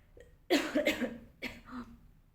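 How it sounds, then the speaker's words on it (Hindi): An unwell woman coughs several times at close range, a quick cluster of throaty bursts followed by one more cough a moment later, in a quiet home setting. "सॉरी खांसी आ रही थी, तबीयत अभी भी नहीं ठीक है मेरी।"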